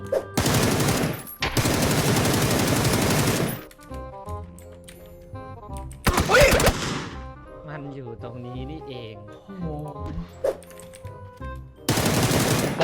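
Gunfire in the battle royale game PUBG during a jump, long bursts of rapid automatic shots loud and close at the start, a brief sharp volley midway and another burst at the end, with voices talking in between.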